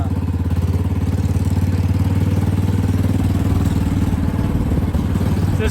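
An abandoned golf cart's engine runs steadily at close range, a loud, even idle-like clatter with a low pulsing rumble that holds without a break from start to finish.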